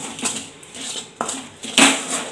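Roasted sesame seeds are stirred quickly in a pan, giving a few sharp scraping and rattling strokes close up, each a short burst.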